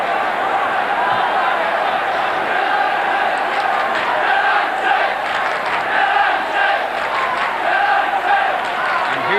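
Football crowd at Fulham v Manchester United in the 1979 FA Cup fourth round, a loud, continuous roar of disgruntled shouting and jeering filling the stadium with no break.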